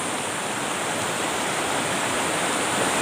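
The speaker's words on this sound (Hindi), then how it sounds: "और बहाव तो तेज है रे" Fast flowing stream water rushing over stones, a steady loud broadband wash heard close and continuous with no voices.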